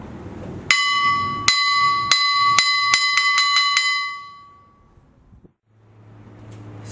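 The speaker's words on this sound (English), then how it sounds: "A third Cantonese small gong." A small Cantonese gong is struck about nine times, beginning with well-spaced hits that speed up into a quick run. Each strike rings clearly and shimmers, and the last ones fade out into near silence before some faint room noise comes in.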